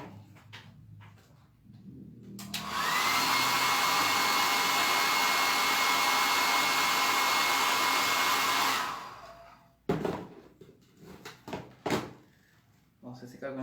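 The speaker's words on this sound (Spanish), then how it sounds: "voy a secar con el secador de pelo" A hair dryer blasts steadily for about six seconds to dry a painting during an art class, loud and constant. Quieter clatter, handling sounds and some talk come before and after it.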